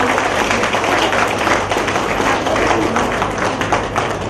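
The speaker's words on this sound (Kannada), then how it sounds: "ಮತ್ತೊಮ್ಮೆ ಆ ಮಕ್ಕಳಿಗೆಲ್ಲರಿಗೂ ಆಶೀರ್ವಾದದ ಚಪ್ಪಾಳೆ, ಖುಷಿಯ ಚಪ್ಪಾಳೆ." An audience applauds for children after a dance-drama performance, with dense, steady clapping from many hands that fills the hall evenly and loudly for the whole stretch.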